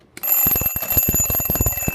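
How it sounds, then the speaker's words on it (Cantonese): A loud household alarm clock, a cheap one bought for about 50 to 60 dollars, rings in rapid rhythmic bursts over a steady high tone, starting abruptly after a brief quiet moment and continuing close and unbroken. "你個鬧鐘好嘈啊！"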